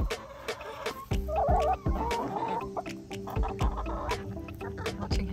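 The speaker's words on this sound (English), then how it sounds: "I have 10 backyard chickens." Ten backyard chickens cluck continuously nearby, a busy overlapping chorus of short clucks with occasional soft thumps in the background.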